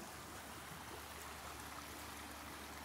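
River water flows steadily, a faint, continuous rushing wash heard from nearby with no voices.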